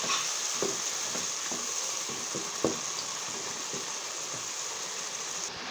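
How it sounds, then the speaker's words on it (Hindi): A spoon stirring yogurt into chicken white karahi in a hot pan, with soft irregular scraping taps over a steady sizzle, close and moderately loud. "अब इसे अच्छी तरह से कर देंगे मिक्स।"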